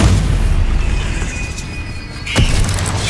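Deep rumbling spell blast in a Hogwarts video game, a continuous low roar with a sharp explosive burst near the end, loud and close.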